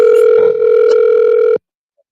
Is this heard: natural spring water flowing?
no